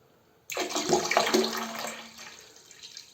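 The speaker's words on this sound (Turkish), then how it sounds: "Şimdi içerisine tuz ruhunu döküyoruz." Hydrochloric acid is poured into a toilet bowl, producing a sudden close splash and gush of liquid that swells quickly, then tapers into a softer trickle and gurgle, with no voices.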